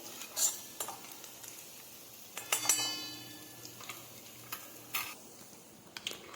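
Garlic paste roasting in a hot pan for a Gujarati dried pigeon pea curry, with a soft sizzle broken by repeated spoon stirs and scrapes against the metal.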